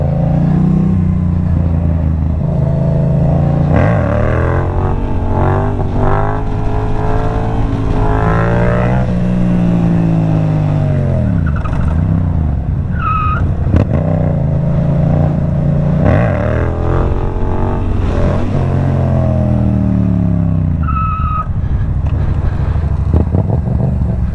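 A Yamaha MT07 naked motorcycle's exhaust revs repeatedly, loud and close, rising and falling in pitch through several throttle blips and longer pulls.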